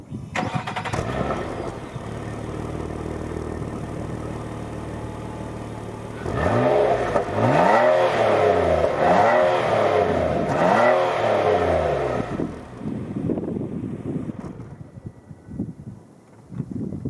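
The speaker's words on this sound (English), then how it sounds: "I'll give you a little bit of a start up. It's not a cold start." A 2012 Nissan Maxima SV with dual exhaust, already warm, idles steadily, then is revved in several rising and falling bursts before settling back to idle; loud and close, with no talking.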